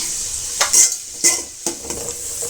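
Onion, garlic, fennel and green chili sautéing in a pan, with a close, bright sizzle and three or four sharp stirring scrapes of a spoon against the metal, and no talking.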